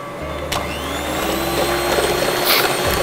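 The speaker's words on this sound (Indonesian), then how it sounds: "Ya, lalu kita mixer saja" An electric hand mixer whirs steadily while beating milk with Belvico flak, a close, continuous motor drone with slight shifts in pitch as the beaters move through the liquid.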